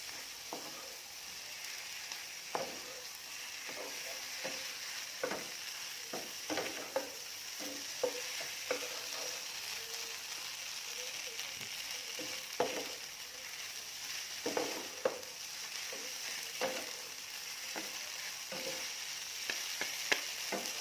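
Shanghai noodles with vegetarian pork are stir-fried dry in a pan, producing a soft steady sizzle with irregular scrapes and taps from the spatula, fairly quiet and without speech.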